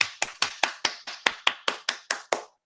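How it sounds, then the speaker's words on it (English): A single person claps a round of applause, about eleven crisp, evenly spaced handclaps close by, then stops. "round of applause for giving me a bright idea"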